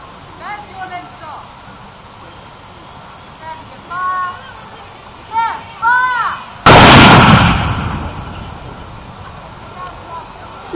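A historical artillery piece fires a single loud salute shot at an outdoor demonstration, a sharp broadband blast with a rumbling tail, coming after scattered talk and brief whistle-like calls from the crowd.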